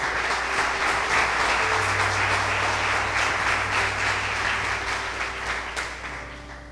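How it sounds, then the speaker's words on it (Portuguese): A church congregation breaks into steady, dense applause right after a scripture reading, a continuous wash of many hands clapping that holds strong and slowly tapers toward the end, with no talking over it. "Vamos aplaudir a palavra de Deus?"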